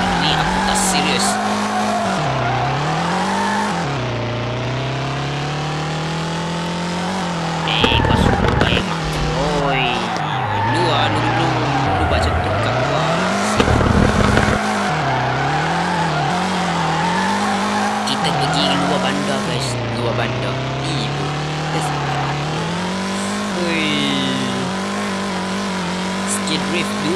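Car drifting in the mobile game FR Legends: a continuous revving engine whose pitch climbs and dips with throttle changes, broken by bursts of tire squeal and skidding, all loud and close.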